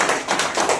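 Crowd clapping at a political gathering in India, a brief burst of overlapping claps less than a second long.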